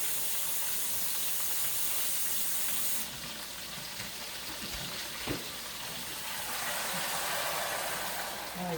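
Water is poured steadily from a cup into a pot holding bacon and rutabagas, a continuous close hiss and gush with no talking, the pour shifting in tone partway through.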